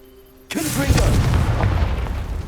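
A Confringo explosive spell goes off in the Hogwarts Legacy video game, played on PS5. After a quiet lead-in, one sudden loud booming blast hits and rolls into a sustained rumbling, crackling roar that fades only slightly.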